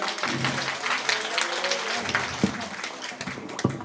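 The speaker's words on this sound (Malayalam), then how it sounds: "ചെയ്തത് ശരിയാണെങ്കിൽ കൈയടിക്കാം." An audience at a family gathering breaks into loud, close clapping that fades out over a few seconds, with a voice audible near the end.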